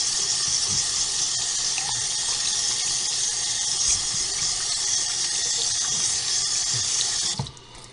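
A running tap pours steadily into a sink while moustache wax is rinsed off, a constant close rush of water that cuts off abruptly near the end.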